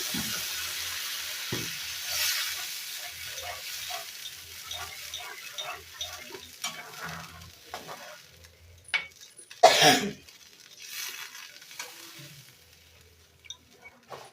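Soya chunk curry gravy bubbles and sizzles in a pot after water is added, a soft steady frying hiss with intermittent stirring scrapes and one louder clatter near the middle.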